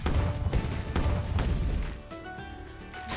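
Booming cannon shots in Bloons Pop!, several heavy blasts in quick succession over busy game sounds, loud and close.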